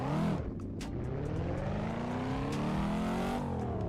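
A car in the racing game Assetto Corsa swings through a handbrake U-turn, its engine roaring loud and steady. A sharp rev-up at the start settles into a sustained, rising drone, with no voice over it.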